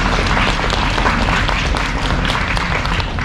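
Audience applause at a school graduation ceremony in South Korea, a dense, steady wash of many hands clapping at close range that holds evenly for a few seconds with no voices standing out.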